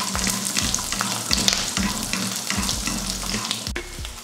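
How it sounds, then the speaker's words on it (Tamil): Garlic frying in a pan with fried chillies for a chutney: steady, busy crackling sizzle throughout, with repeated spatula stirs and a sharp clack near the end. No talking. "இப்போ இதில் ஒரு 100 கிராம் அளவுக்கு பூண்டு சேர்த்துடலாம். அதையும் லைட்டாக வதக்கிக்கலாம்."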